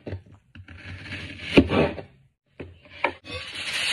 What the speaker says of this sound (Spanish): Vamos a cortar una cebolla en rodajas.